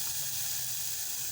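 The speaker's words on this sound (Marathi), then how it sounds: "कांदा घालत आहे, मिश्रण एकजीव करून घेते।" Chopped onion sizzles in a hot pan of spiced green paste, a steady close hiss with no breaks.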